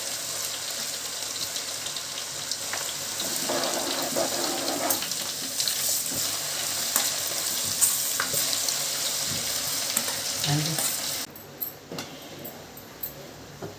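Garlic paste goes into hot oil on a switched-off stove while a mango chutney is made, fizzing and sizzling loudly up close for most of the stretch, then dropping to a quieter hiss near the end.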